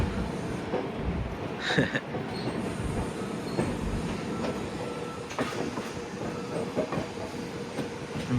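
A Shatabdi Express train (12011, New Delhi to Kalka) rumbles steadily with a loud continuous roar, wheels rattling and an occasional brief squeal, heard from onboard as it rolls into Kalka station.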